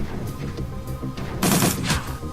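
Gunfire from a Shadowrun Dragonfall turn-based combat encounter, a short loud burst of several rapid shots over a steady background game score, standing out clearly in the middle of the clip.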